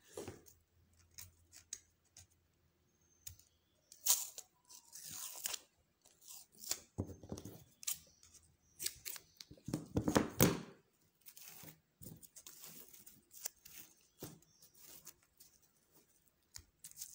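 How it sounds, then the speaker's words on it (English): Sellotape being pulled and torn to hold a fascinator wire covered with pipe, heard as sparse, quiet, close crinkles, rips and small taps that come in scattered bursts over a near-silent background, with no talking. "Secure the mouth with your sellotape."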